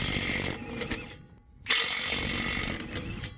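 A Ryobi cordless impact tool hammers loudly on lug nuts during a roadside tire change, a continuous rattling burst that cuts out briefly for a short gap before resuming just as hard.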